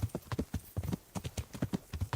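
Horse hooves clip-clop in the video game Kingdom Come: Deliverance, a steady galloping rhythm of distinct, close, soft thuds in quick groups.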